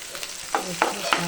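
Onion fries in a spice tempering of lentils, cumin, mustard seeds and curry leaves, with a close sizzle and three quick stirring scrapes.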